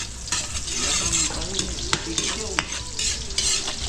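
Garlic and onion sautéing in a restaurant pan before making pancit, a loud, continuous sizzle with scraping stir strokes and occasional sharp clicks of the utensil against the pan.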